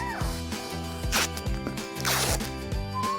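Tape being torn and pressed onto a cardboard shark, with crackly ripping strips over a looping rhythmic music bed.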